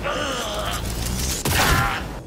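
Gunfire in the video game Cyberpunk 2077, a dense, loud burst of rapid shots running almost without a break, with a brief dip before a heavier second volley.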